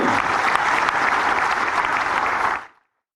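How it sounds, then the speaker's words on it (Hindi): Audience applause at a government job fair ceremony: dense, steady clapping from a large crowd, loud and sustained, then cutting off abruptly near the end with no talk over it. "जोरदार ताली बजाओ भाई"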